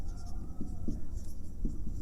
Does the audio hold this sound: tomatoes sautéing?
no